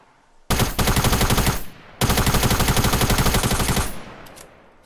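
Rapid automatic gunfire in a shooter video game, two long loud bursts of fast continuous shots separated by a brief pause, with no voices over them.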